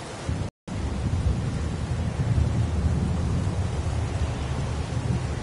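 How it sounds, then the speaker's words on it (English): Heavy pouring rain with rumbling thunder, a dense steady hiss of downpour and low rolling booms filling the whole stretch, with only a brief cut near the start. "It's pouring rain."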